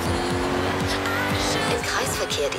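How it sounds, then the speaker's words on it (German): A Forza Horizon 3 car tuned to 1500 hp and 2000 Nm, driven through the Outback, accelerates hard. The engine revs climb again and again through quick gear shifts, loud and continuous with a constant engine drone. "der Wagen beschleunigt ja trotzdem wie ein Geisteskranker."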